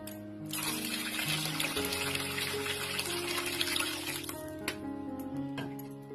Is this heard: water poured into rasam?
yes